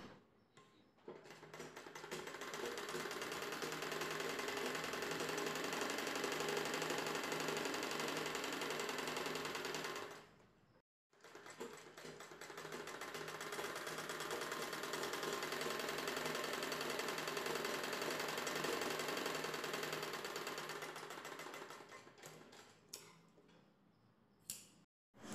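A sewing machine runs in two long continuous bursts, stitching the waist belt onto the back of a Prince-cut blouse, with a brief stop between runs and a short pause near the end.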